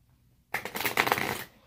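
A Healing Light tarot deck is riffled and shuffled close by, a brief crisp flutter of cards lasting about a second after a short silence.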